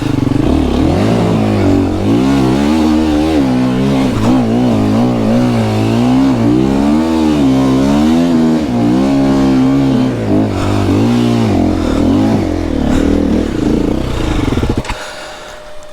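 A 2025 KTM EXC-F four-stroke dirt bike rides through snow, its engine revving loud and close with rising and falling pitch as the throttle works, then dropping away at the end.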